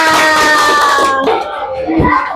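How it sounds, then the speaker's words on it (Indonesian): A classroom group claps together in a dense burst of applause that fades quickly, with a bit of crowd noise lingering afterward. "Oke, tepuk tangan buat kita semua."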